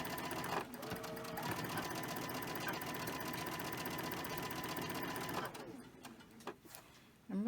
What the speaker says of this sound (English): Here I am sewing along and totally forgot to put the video on.